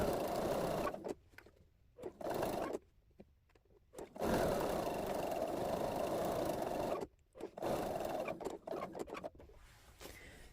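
A home sewing machine stitches the seam of a floppy-eared fabric bunny, its steady motor whir running in bursts that stop and restart several times for brief pauses between close, even passes.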